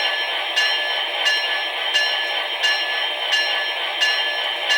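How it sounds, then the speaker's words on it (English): A Mikes Train House CSX SD70ACe HO scale model locomotive rings its electronic bell in a steady, evenly spaced clang, about one strike every two-thirds of a second, loud and continuous throughout. "I can't manage to turn the bell off"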